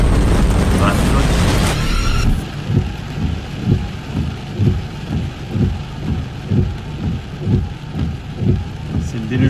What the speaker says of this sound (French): Ça vente, il pleut énormément.